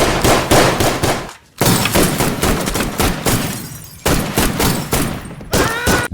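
A dense film shootout, with rapid, loud gunfire fired almost nonstop and one brief gap, plus metallic clangs and glassy impacts mixed among the shots.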